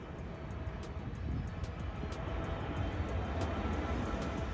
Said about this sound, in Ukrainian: Найцікавіше у цьому містечку, напевно, те, що тут літають літаки просто над дахами.